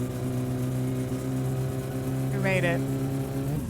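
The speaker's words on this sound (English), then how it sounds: "The car is still exceptionally loud, and I'm so sorry. We don't have an exhaust pipe, so that's why." Loud, droning car engine with no exhaust pipe in the driving game My Summer Car, a steady rough hum running throughout while a person speaks briefly over it.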